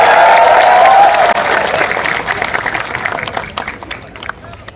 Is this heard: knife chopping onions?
no